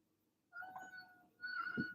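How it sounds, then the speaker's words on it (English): A pet cat indoors gives two soft, drawn-out meows, the second following shortly after the first, faint and fairly close in an otherwise quiet room. "She's such a wise kitty."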